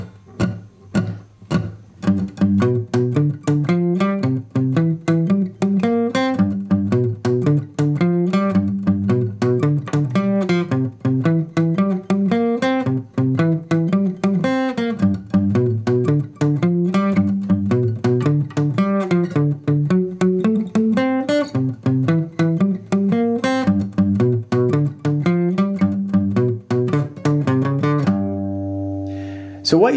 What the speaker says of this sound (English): That's really just running through a 12-bar blues pattern,